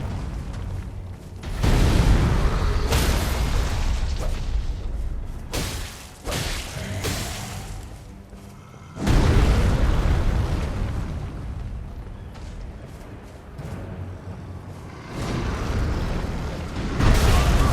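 In the video game Elden Ring, an enemy blows up in a series of heavy booming blasts with crackling debris. Two strong bursts stand out, separated by rumbling, shattering tails.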